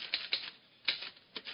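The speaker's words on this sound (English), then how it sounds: "the typing I was concerned with one Tuesday morning was strictly of the hunt and peck variety" Typewriter keys clack in irregular hunt-and-peck strokes for an old-time radio detective drama, about five separate sharp taps heard alone and close.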